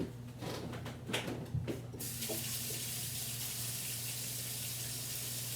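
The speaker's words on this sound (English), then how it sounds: "go over to your sink, wash your hands" A bathroom or kitchen tap runs steadily into a sink while hands are washed, a continuous close hiss of water with a low hum and a few splashes and clinks in the first two seconds.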